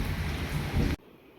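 Heavy monsoon rain falls under dark clouds in hill country, a dense, loud hiss that cuts off abruptly after about a second into near silence.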